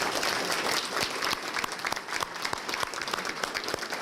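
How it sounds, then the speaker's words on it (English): Sustained applause from a banquet crowd honoring the club's charter members at a Lions Club 40th anniversary dinner, dense clapping filling the room steadily with scattered louder individual claps throughout. "I think they all deserve a round of applause."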